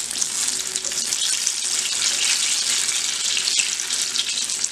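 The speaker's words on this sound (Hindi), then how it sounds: "बैंगन के अंदर पानी होता है इसलिए इसमें से थोड़ी सी आवाज़ आती है और पानी थोड़ा सा इसमें उछलता है" Eggplant pakoras frying in hot oil in a kadhai, a dense, continuous loud sizzle and crackle with spattering from the vegetable's moisture, steady throughout with no talking.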